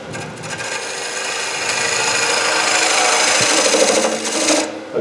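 A woodturning tool cuts into wood spinning on a lathe during ring turning, making a loud, continuous, close rasping whir that holds steady for several seconds before cutting off.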